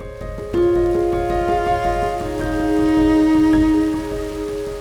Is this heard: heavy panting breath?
no